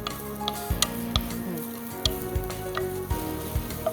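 Chopped onion frying in olive oil, a soft continuous sizzle with a few light ticks and stirring knocks underneath a low background hum.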